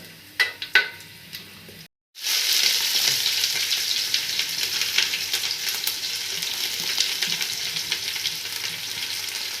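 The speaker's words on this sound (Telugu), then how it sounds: "గరం మసాలా వేసుకోవాలి. చెక్క, లవంగ, ఇలాచీ, షాజీరా, బిర్యానీ ఆకు ఇవన్నీ వేసుకొని కొంచెం వేడిగా అనియాలి." Whole spices for chicken pulao, cinnamon, cloves, cardamom, shahi jeera and bay leaf, hit hot oil in a small kitchen. A few light clatters come first, then a brief gap, then a loud, steady sizzle carries on to the end.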